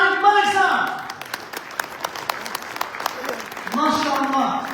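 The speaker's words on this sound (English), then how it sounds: "MashaAllah, big round of applause to Tariq Malik sir." Scattered audience clapping at a fundraising event, brief and uneven, with a voice speaking before and after the claps.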